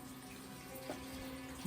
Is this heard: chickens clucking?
no